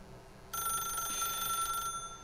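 A telephone rings in The Stanley Parable, a sustained bright electronic trill that starts abruptly and rings steadily for over a second before cutting off, loud and alone.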